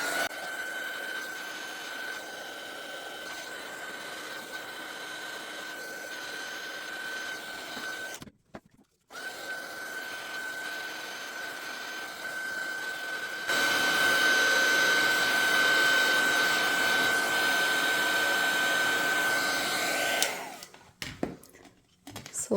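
A heat tool dries Brusho powder paint on a card during mixed-media cardmaking. It blows a steady whirring hiss with a high whine, cuts out briefly, then returns louder before switching off near the end.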